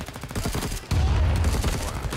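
Machine-gun fire in the Vietnam-era shooter Rising Storm 2: Vietnam, with rapid bursts of shots followed by a dense, heavy barrage that keeps on loud and close.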